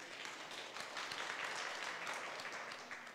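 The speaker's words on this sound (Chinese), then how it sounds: "咱掌声鼓励一下" Studio audience at a Taiwanese political talk show applauds a guest being introduced, a brief, faint, even patter of clapping heard alone for a few seconds.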